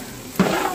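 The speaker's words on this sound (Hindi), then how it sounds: "मटन बन रहा है मटन" Mutton frying in a pan in a home kitchen, a brief sizzling burst rising suddenly and then settling into a steady, moderately loud fry with no talking.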